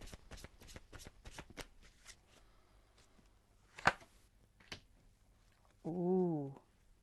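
Tarot cards riffled and shuffled in a quiet room, a quick run of crisp snaps followed by a few scattered flicks, then a brief hum-like vocal sound at the end.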